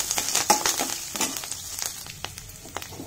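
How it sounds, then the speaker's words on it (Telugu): Sesame seeds and curry leaves fry in a pan, giving a soft, busy crackle and sizzle with scattered small pops, fairly quiet and close. "కరివేపాకు వేగిన తర్వాత నువ్వులు వేద్దాం."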